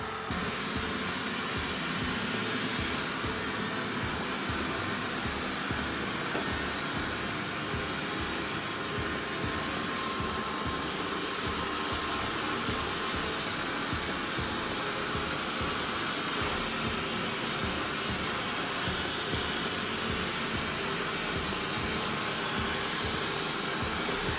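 A steady mechanical whir of a Xiaomi S20+ robot vacuum runs continuously, with a constant hum and faint rhythmic low thumps throughout, fairly quiet and alone.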